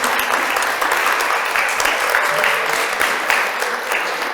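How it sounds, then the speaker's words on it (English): A keynote audience applauds loudly and steadily in a large hall, a dense wash of clapping that holds at full strength throughout. "Please give them a round of applause."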